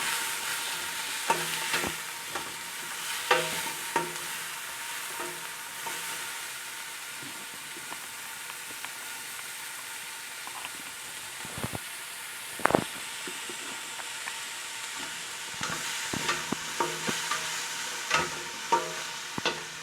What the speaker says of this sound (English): Going to give that a little stir.